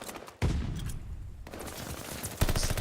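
Video game gunfire during an esports match: a sudden loud burst of rapid shots, a brief lull, then more sustained automatic fire with another sharp volley at the end.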